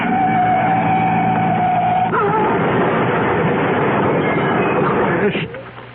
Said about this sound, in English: Crashed and burning.